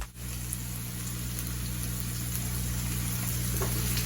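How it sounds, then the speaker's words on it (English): Onions sautéing in a pan, a steady bright sizzle and crackle, close and even throughout with a low hum underneath and no talk. "Now we're going to start sauteing these onions. Listen to that good old sizzle."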